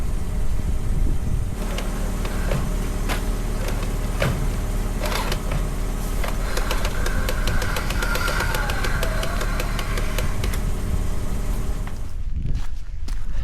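Car engine idles steadily just after a cold start, a constant low rumble with light clicking and knocking over it, recorded close with no voices.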